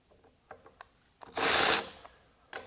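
A Milwaukee M12 FUEL cordless ratchet at 10 foot-pounds gives a few light clicks, then a loud half-second motor whir that bogs as it stalls, followed by more faint clicks.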